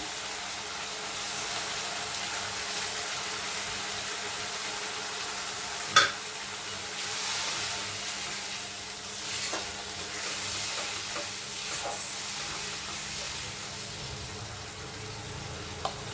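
A pan of masala for egg tadka hisses with a steady, moderate sizzle after a little water goes in, with a sharp clink partway through and a few soft stirring scrapes, no voices.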